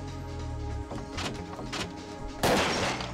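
M4A1 rifle fire in the video game Parasite Eve 2, a sudden loud shot near the end that cuts through a soft game soundtrack, preceded by fainter thumps.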